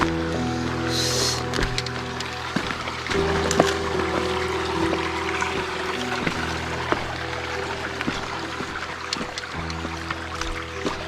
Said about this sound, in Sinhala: මේ වතුර වල සද්ද